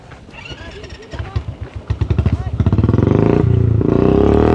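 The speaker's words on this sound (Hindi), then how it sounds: "अभी जतिन बाइक लेके आ रहा है" A motorcycle ridden by two people approaches on a mountain road trip, its engine rising from faint irregular pulses to a loud, steady close drone that ends the clip.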